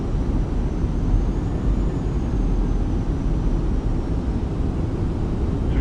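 Fenix A320 airliner on final approach in Microsoft Flight Simulator, a steady broadband jet engine and airflow roar that holds constant and fairly loud throughout, with no voices.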